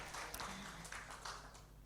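A church congregation claps along at a New Year worship service, a steady broadband patter of many hands filling the room at moderate loudness, with faint voices mixed underneath.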